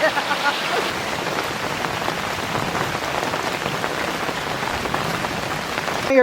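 Steady rain pours down on surfaces outdoors, dense and loud, while Bengali ghugni and kochuri are fried. It holds an even hiss throughout with a faint knock at the end.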